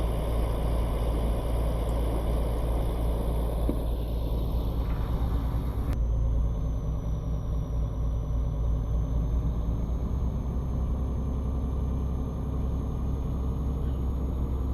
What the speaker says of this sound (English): Little bit of a turbo whistle there.